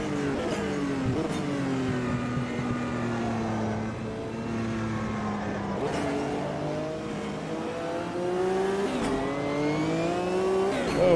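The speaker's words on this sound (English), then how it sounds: "Oh, wheel spin." Race car wheel spin in the Automobilista 2 sim racing game, a loud continuous engine roar with rising and falling revs and tire squeal, running unbroken for about eleven seconds.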